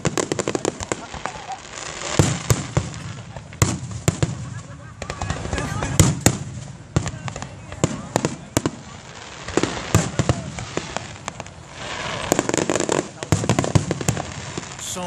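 Fireworks burst at the WEBN fireworks show, a dense, continuous barrage of sharp cracks and booming explosions at varying distances, with crowd voices underneath.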